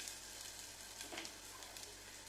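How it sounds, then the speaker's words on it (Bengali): Garlic sizzles and crackles in hot oil for a tempering, a soft, steady frying hiss with small pops and an occasional stir, close to the microphone. "এই যে রসুন ফোড়ন দিচ্ছি"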